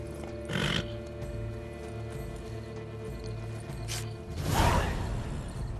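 Horse in the video game The Witcher 3 (Blood and Wine), with a short snort near the start and a louder breathy neigh or whoosh toward the end over steady game ambience.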